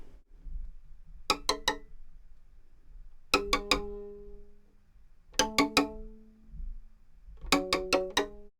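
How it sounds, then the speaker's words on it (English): A violin played col legno battuto on a low string gives sharp, dry wooden taps in quick clusters of three or four, repeated about every two seconds, close and alone against a low background. "we use the violin technique called Collegno battuto on a low string"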